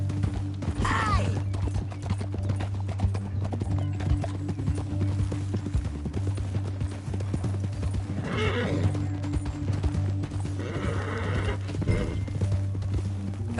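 Horses' hooves clip-clop steadily on hard ground in a canyon, with a horse neighing and whinnying clearly, over a low steady rumble and no speech.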